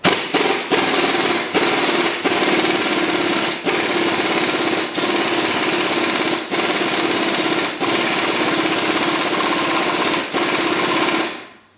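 An impact tool hammers loudly and continuously at a stuck lower rear shock bolt on a Chevrolet HHR, long rapid bursts separated by brief pauses, very close and harsh.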